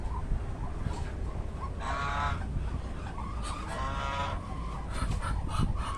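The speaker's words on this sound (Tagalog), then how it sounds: "Yan yung ating mga gansa. Pato." Geese and ducks honk and cackle in short bursts in a small backyard poultry yard, fairly close, over a constant background hum.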